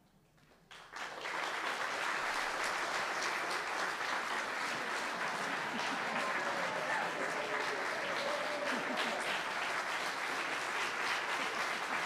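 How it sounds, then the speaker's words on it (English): A large crowd applauds at a college opening-day ceremony honoring long-serving staff, the clapping rising quickly after a quiet start and continuing as a steady, full wash of sound. "One big one, keep the applause going,"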